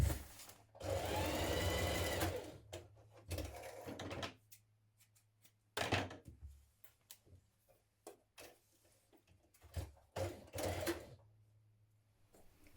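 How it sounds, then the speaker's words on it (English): A sewing machine runs a steady basting seam along the top and side of a pyjama pocket, one sustained burst of stitching followed by shorter start-stop runs and handling clicks, close and clear with no talk. "we're going to baste along the top and the side just to keep it in place"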